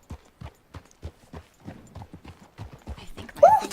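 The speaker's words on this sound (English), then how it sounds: "Oh, that's a lot of horses." Horse hooves clip-clop in a video game, a run of crisp, evenly spaced hoofbeats nearby that speed up and grow busier toward the end, followed by a short bright tone.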